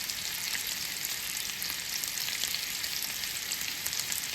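Homemade pork breakfast sausage frying in a cast iron skillet gives a steady, even sizzle with a bright hiss that holds at a constant level throughout, with no talking.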